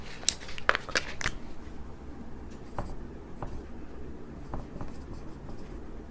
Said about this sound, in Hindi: इस बुक का नाम भी मैं लिख देता हूँ।